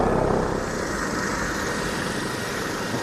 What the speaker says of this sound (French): il y a un hélico en fait qui va atterrir juste là